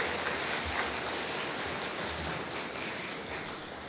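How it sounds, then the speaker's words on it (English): A luncheon audience applauds a string quartet in a dense, even patter of many hands, moderately distant and steady, gradually tapering toward the close. "give a brief round of applause to the Allegro Quartet"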